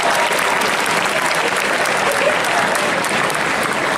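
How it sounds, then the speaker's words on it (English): Steady, dense audience applause at a high school senior signing day, loud and sustained throughout with no pause and no speech over it. "give yourself a round of applause."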